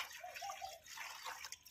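Hot water is poured into a child's lunch box, a soft, steady splashing and trickling that runs close and quiet for under two seconds.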